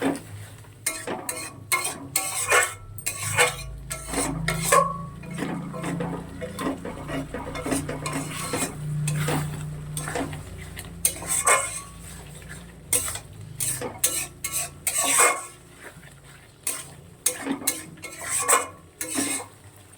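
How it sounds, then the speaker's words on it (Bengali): Mustard prawn curry simmers in a pan while a utensil stirs and scrapes against the metal, giving repeated close clinks and scraping strokes over a soft bubbling sizzle, with no talking. "জলটা বেশ 2-3 মিনিট ফুটিয়ে নিয়ে তারপরে নামিয়ে নেব।"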